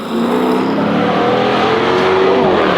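A Scat Pack V8 car engine roars at high revs, a loud sustained growl with a rising pitch toward the end, heard up close with no talking.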